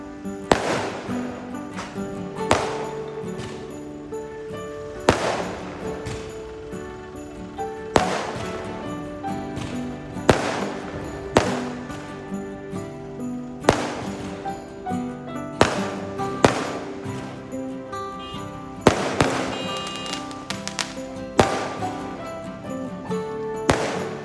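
Christmas fireworks go off at a church, a series of sharp cracks and bangs spaced every second or two over a steady background, some louder and nearer than others.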